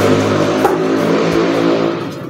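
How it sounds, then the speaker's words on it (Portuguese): A car engine drones steadily nearby outdoors, loud and continuous with a slight revving swell before easing off toward the end; no one speaks. "Barulho de carro aqui."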